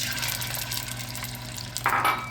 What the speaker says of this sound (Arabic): سخنت الزيت، دوك نديرو اللحم تاعنا